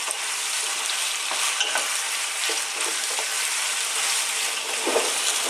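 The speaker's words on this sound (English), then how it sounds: "Okay, again, we're going to stir fry this around." Garlic, ginger, green chilies and onions are stir fried in a pan over medium heat for a chicken potato curry, giving a steady loud sizzle with intermittent scraping and stirring noises and no talk.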